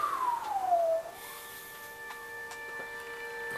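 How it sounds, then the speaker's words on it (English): An ambulance siren in The Amazing Spider-Man 2 video game gives a single falling wail, then settles into steady tones under a low background hum. "That's the ambulance I called."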